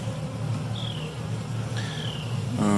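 Honeybees at a Flow Hive buzz in a steady, faint drone, with a few individual bees whining past close by.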